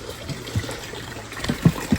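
Water gushes from a broken pipe on a night climb up a mountain trail, a steady broadband rush with a few louder splashing bursts near the end, no talk over it.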